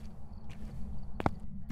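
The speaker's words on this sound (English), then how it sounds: "Man, these new footstep noises are getting me." Footsteps in the ghost-hunting video game Phasmophobia, a few soft thudding steps over a low steady game ambience, with one sharper louder pair of steps near the end.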